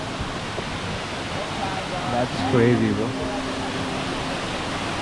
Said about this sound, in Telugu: finally we are at water fall bro